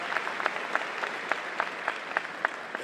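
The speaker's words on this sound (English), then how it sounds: "A round of applause." Moderate audience applause at a morning convocation, with a steady wash of clapping and distinct sharper claps popping through at a rhythmic pace, heard without talk.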